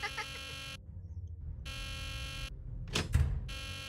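Alarm blaring in the Nancy Drew: The Deadly Device video game, a harsh buzzing tone that cuts on and off in repeated bursts, loud and close, with a heavy thud near the end.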